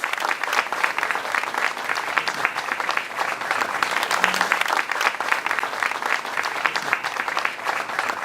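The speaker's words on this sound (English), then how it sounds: "They deserve a round of applause." A hymn-singing competition audience applauds the singing trios as they are called on stage; vigorous, sustained clapping with crisp individual claps, loud and unbroken from start to finish.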